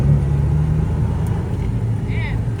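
A damaged Peterbilt truck idles steadily with a loud, low diesel rumble close by, its even drone holding throughout while a faint higher whine rises briefly near the end.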